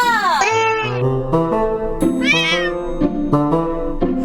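A domestic cat meows repeatedly in a series of drawn-out, tonal cries with short gaps between them, loud and close, with no talking over it.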